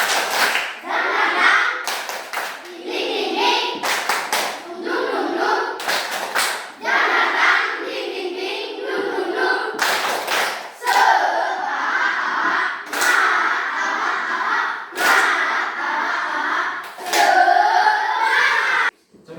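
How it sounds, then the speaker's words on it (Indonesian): Schoolchildren in an Indonesian classroom perform a rhythmic spirit clap, sharp bursts of clapping in repeated patterned groups alternating with loud group chanting voices throughout. "Tepuk semangat."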